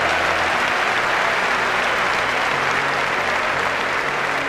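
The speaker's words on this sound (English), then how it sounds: "Give her a round of applause" An audience at a motivational speaking event applauds in a loud, steady wash of clapping that fills the whole stretch without a break, with no speech over it.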